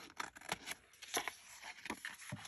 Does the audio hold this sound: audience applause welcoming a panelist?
no